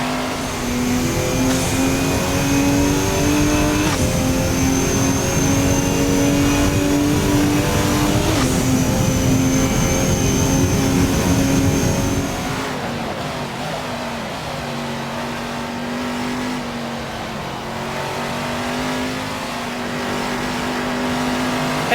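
Porsche GT2 race car engine in the Assetto Corsa racing game, a loud sustained engine note with rising revs and gear changes through the first half, then dropping to a steadier, lower drone.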